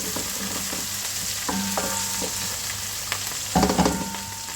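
Ginger, garlic and green chili being stirred in hot oil for chicken biryani, with a steady sizzle and a few scraping strokes of a spoon, the loudest stir near the end.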